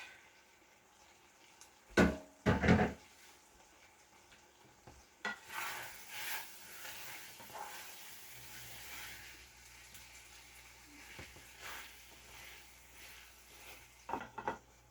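Drained macaroni goes into a pot on the stove, with a couple of sharp clanks of the pot followed by sizzling and stirring that settles into a quieter simmer.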